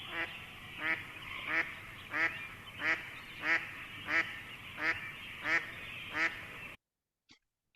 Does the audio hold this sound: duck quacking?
yes